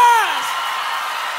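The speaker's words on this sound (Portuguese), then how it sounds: "Salve de palmas pra todas as minhas fãs lindas, maravilhosas e cheirosas!" A concert audience cheers: one loud whoop swoops downward at the start, then a dense wash of crowd noise carries on steadily.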